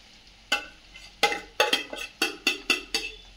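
Chopped onions stirred in a pan with ginger and garlic, with about eight close, distinct scraping strokes over a light sizzle of frying.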